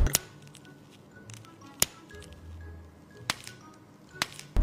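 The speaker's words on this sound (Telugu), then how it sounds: "నంబర్ 2, మన కాల్ పెట్టినప్పుడు కట్టె విరిగిపోయే సౌండ్ ని ఇలా క్రియేట్ చేస్తారు." A foley cracking of a wooden stick being snapped, heard as a few sharp, isolated crisp snaps spaced apart, close and alone with no talk.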